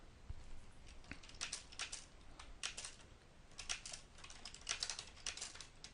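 Quick bursts of typing on a computer keyboard as note details are entered, with irregular clusters of close keystrokes and short pauses between them.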